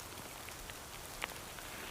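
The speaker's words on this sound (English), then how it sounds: "it's a downpour" Heavy rain pours down in a cold boreal forest as a dense, steady hiss, with scattered faint drops and patters standing out against the constant wash.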